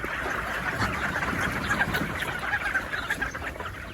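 Chickens cluck steadily in a busy chorus, with a few louder calls popping out over the continuous flock noise.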